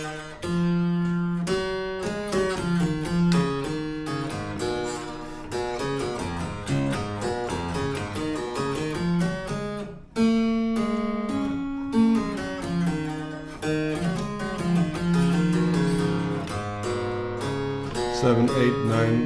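A 31-tone equal tuning demonstration climbs a harmonic-series scale through pseudo 11th and 13th harmonics, sounding as steady sustained pitched tones stepping one after another at even strength throughout, with no talking.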